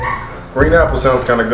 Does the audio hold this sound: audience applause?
no